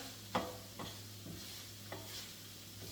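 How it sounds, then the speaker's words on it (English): Asparagus stirred in a pan makes a few faint, sparse scraping strokes over a low sizzle and steady background hum. "Let's give that a stir."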